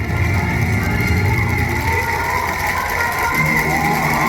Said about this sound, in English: The crowd is erupting in cheers and applause, waving their flags